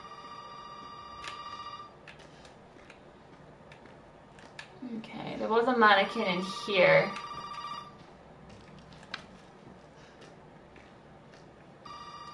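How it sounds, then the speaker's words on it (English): A phone rings inside the Resident Evil 7 horror game, its electronic bell tone pulsing steadily at moderate volume, while someone talks over the middle of the ringing. "Now, if I answer the phone, it's game over, guys."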